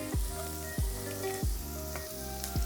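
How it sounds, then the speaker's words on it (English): Onions sizzling in a hot pan for a stuffed pork tenderloin, a close, loud frying hiss with repeated low thumps and scrapes as they are stirred, roughly every three-quarters of a second, no talking. "Okay, we can go in with our onions."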